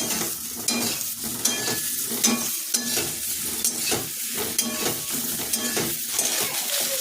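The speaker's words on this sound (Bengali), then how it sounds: "এবার এই বেগুনগুলো এর মধ্যে দিয়েই ভেজে নেবো" Eggplant pieces fry in oil in a pan, giving a continuous close sizzle broken by regular scraping stirs of a spatula against the metal, roughly once a second.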